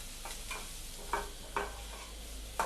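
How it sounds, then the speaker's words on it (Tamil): Onions sauté over a low flame for a black chickpea kadala curry, a quiet, even sizzle broken by a few distinct spoon scrapes against the pan at irregular intervals, with no voices. "இதிலேயே போட்டு நல்லா வதக்கிக்கோங்க. சிம்மில் வச்சுட்டு வதக்குங்க."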